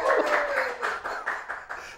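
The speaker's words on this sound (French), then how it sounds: "Applaudissez!" A TV studio audience on a local cable show claps together, a dense patter of handclaps with rhythmic swells, fairly close and under a little crowd noise.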